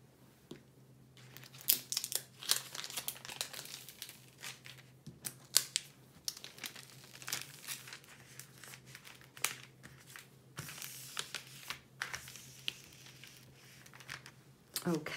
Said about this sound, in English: the first release paper is going on and I overlap the edge of the diamond painting